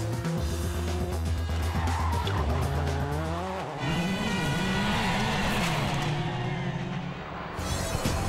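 A WRC rally car from the 2003 season drifts through corners on wide, flowing Spanish tarmac, its engine roaring loudly and close as tires squeal and skid through the bends, with the engine note shifting sharply midway.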